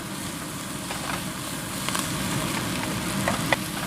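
Browned onions and peppers sizzle steadily in a pan for keto chili, a soft continuous frying hiss with faint scattered crackles, fairly quiet and heard alone.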